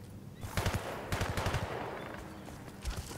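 Machine gun fire in the video game Battlefield: Bad Company 2, with short rapid bursts of several shots each, fairly close over a steady background hiss of battle ambience.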